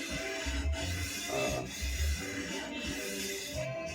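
Small sharpening stones rubbed back and forth along the bevel of a Japanese deba knife while polishing it, a steady gritty rasping scrape with soft rhythmic strokes, close and continuous, no talking.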